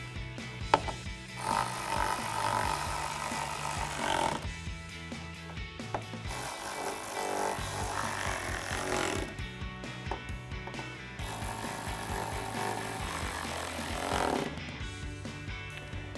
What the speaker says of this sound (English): take that same T30 torque socket and tighten all of these down